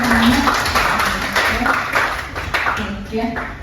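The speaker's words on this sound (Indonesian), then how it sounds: "Beri tepuk tangan dulu teman-temannya." Students in a university classroom in Palembang clap for their classmates, a scattered, moderately loud burst of hand clapping with voices mixed in.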